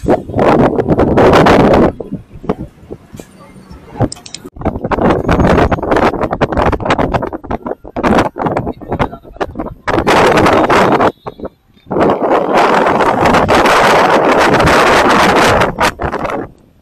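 Loud, gusty wind batters the microphone in heavy rumbling bursts that come and go, with brief quieter gaps between blasts.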